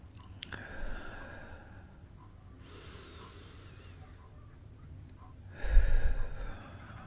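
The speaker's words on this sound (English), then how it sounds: "take some deep breaths in and out" Slow, deep breathing in a quiet setting: a soft, airy breath near the start, a long, hushed, drawn-out stretch in the middle, and a louder, fuller breath near the end, all close and intimate with no talking.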